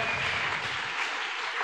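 A church congregation claps together in a steady wash of applause, dense and sustained, heard from within the crowd with a faint tone running through it.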